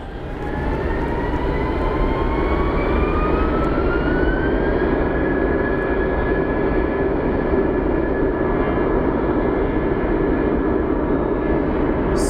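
Engines on a Volaris jet airliner spool up for takeoff at Phoenix Sky Harbor airport, a loud, steady roar with a whine climbing in pitch and then holding, heard from a distance with no talking.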